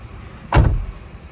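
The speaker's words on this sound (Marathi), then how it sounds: "समोर गाडी आहे बहुतेक." A car close by on the road passes in one brief, loud whoosh that swells and fades within about half a second over a quiet background.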